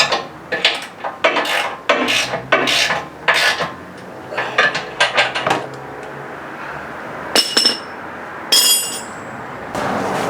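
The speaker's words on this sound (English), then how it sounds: "I had to loosen up the brackets on the frame, but see, we snug everything up" Metal tools clank and ratchet while bumper bracket bolts are snugged on a Ford Super Duty frame fitted with a modified Fab Fours bumper, a series of close, sharp clinks and scraping bursts in uneven rhythm.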